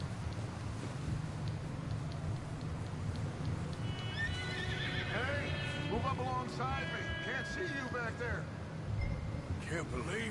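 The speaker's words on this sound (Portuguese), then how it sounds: "R1 reduz a velocidade do cavalo e o X ele cavalga mais rápido." A horse in the video game Red Dead Redemption 2 neighs loudly in a long whinny over a steady background of hoofbeats and wind, with a voice speaking faintly underneath.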